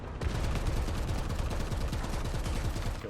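Sustained machine gun fire from a ZiS-30 tank destroyer in a video game, a rapid, even stream of loud close shots running for several seconds without pause.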